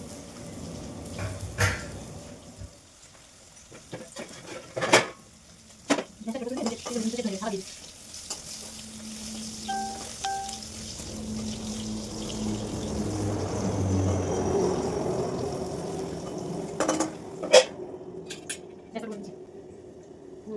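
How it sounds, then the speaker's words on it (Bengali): Dishes and pots being washed under a running tap, with clinks of cutlery and metal pans and a stretch of flowing water, while people talk intermittently over it. "চলো বাসন টাসন করে ধুই"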